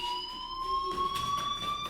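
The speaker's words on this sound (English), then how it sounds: "do you hear that fire alarm? That means you should be outside." A fire alarm rings steadily in the video game Life Is Strange, a sustained electronic alarm tone held at even loudness throughout, with no talk over it.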